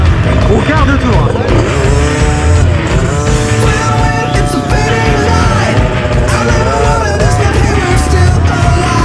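A small 125cc motorcycle engine revs loudly and continuously while being ridden, its pitch rising and falling through the run, with people shouting and talking over it.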